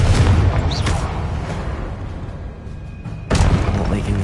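In Hogwarts Legacy, a Confringo spell sets off an explosion as a deep booming blast with a burst of crackling noise, then a second sharp blast near the end.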